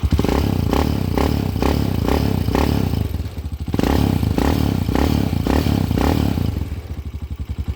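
A Honda TMX125 motorcycle converted to 200cc on a test ride, its engine loud and close with a steady rapid chugging beat and rattling clatter, easing off near the end, with no talking.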